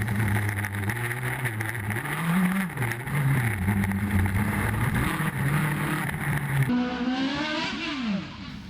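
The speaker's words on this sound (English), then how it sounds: "His in-car shows us from the cockpit just what a handful these powerful and light cars are." A light, powerful hillclimb race car engine heard from inside the cockpit, loud and close, revving up and down through gear changes with a buzzing, whining drone and a final sharp rise as the pitch changes.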